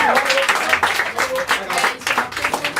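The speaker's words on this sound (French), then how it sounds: "Bravo Olivier, on applaudit Olivier." A small improv theatre audience in a bar claps for a volunteer on stage, steady applause with a host's voice speaking over it.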